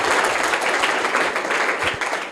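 Applause from a classroom of students at a private school rewarding a correct quiz answer, a dense steady clatter of many hands close by, sustained for the whole stretch and fading slightly at the end.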